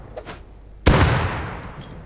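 A single sharp, loud gunshot-like blast in a tank video game, hitting suddenly and then trailing off in a rumbling decay, with no talk over it.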